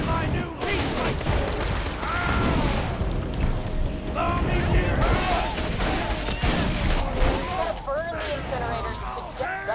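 Rapid gunfire in the video game Borderlands 2, with dense bursts of shots and booming impacts running throughout, loud and continuous, alongside in-game voices.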